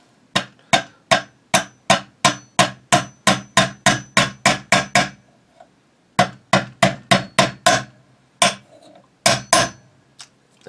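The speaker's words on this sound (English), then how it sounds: "I'm going to use a regular hammer and be gentle about it." A regular hammer taps pins into the bolt of an IWI Tavor X95 rifle, a fast run of about a dozen sharp metallic strikes, a short pause, then another burst of close, crisp taps.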